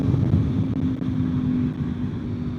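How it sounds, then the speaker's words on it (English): Steady, high-revving drone of a V4 motorcycle engine at speed on a highway, close and loud with wind rush, holding a constant pitch throughout. "I should not be on the highway doing this many revs consistently"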